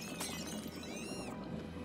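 Glass shattering in the LEGO Harry Potter Years 1-4 video game, a short bright smash with tinkling shards over steady game background sound and music.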